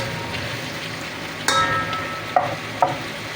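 Tomatoes cook in a pan, giving a low continuous sizzle with a few sharper stirring scrapes and pops, fairly close.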